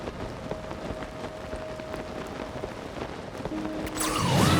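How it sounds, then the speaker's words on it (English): Rain falls in the video game Zelda: Tears of the Kingdom, a soft, steady patter of drops with a few scattered louder taps and faint game tones, growing louder at the end. "Oh, good. It's raining."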